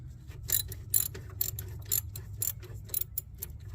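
A ratchet works a 12 mm caliper bolt loose during a rear brake job on a 2003 Yukon Denali XL, giving a close run of quick metallic clicks in uneven bursts.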